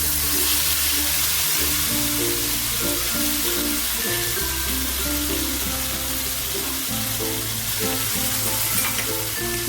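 Ginger, garlic and green chili paste sautéing in a pan with cloves in hot oil, a loud continuous sizzle under steady stirring scrapes, close and unbroken throughout.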